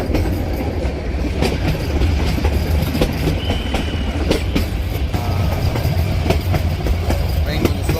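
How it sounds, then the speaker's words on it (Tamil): A train rolls slowly through the Gir lion forest, a loud steady rumble with rhythmic wheel clicks and clatter from close by, continuous throughout. "ட்ரெயின் கொஞ்சம் ஸ்லோவாகவே போகுது."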